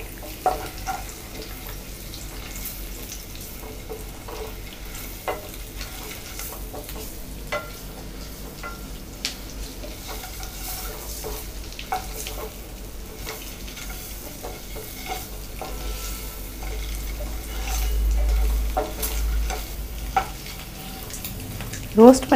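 Steady, soft sizzling of eggs roasting in masala in a pan for egg curry, with occasional clicks and scrapes of stirring, no voices.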